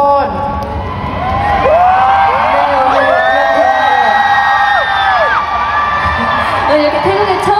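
Large crowd of Thai fans cheering, whooping and screaming at a K-pop festival in Bangkok, a loud sustained roar with high shrieks rising and falling throughout.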